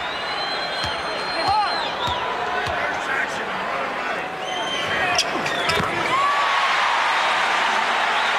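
Arena crowd at the 1991 NBA Finals between the Bulls and Lakers, a steady roar of cheering and whistles with squeaking sneakers and a basketball bouncing, swelling toward the end under a commentator's voice.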